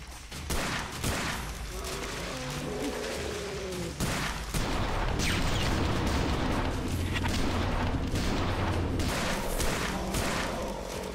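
Gunshots ring out while hunting in Cabela's African Adventures, a steady run of sharp reports over a dense, loud game soundscape, with someone talking at times.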